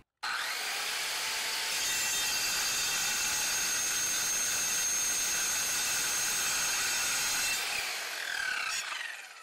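An Evolution 7-1/4 inch circular saw cuts through a 3/4-inch stainless steel bolt: a loud, steady high-pitched whine and grinding screech that holds for about eight seconds, then winds down.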